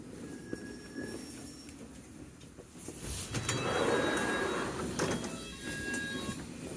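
A London Underground District line train running between Richmond and Upminster near Stamford Brook rumbles steadily from inside the carriage, with swelling rolling noise, short rattles and faint high squeals from the wheels, and no voices.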